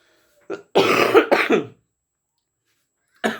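A person coughs several times in a quick, harsh burst, followed by a pause and another cough starting at the end; no talking.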